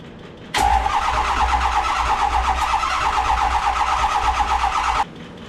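A 2005 Ford 6.0 Powerstroke diesel truck engine cranks over for about four and a half seconds, a loud, steady whirring starter drone with rhythmic pulsing that cuts off abruptly without the engine catching; no talking.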